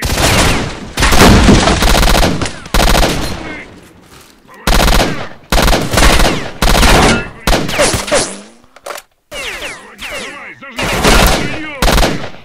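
Loud automatic gunfire in STALKER: Shadow of Chernobyl, a string of long sustained bursts separated by brief pauses, close and dominant, with occasional shouts between the volleys.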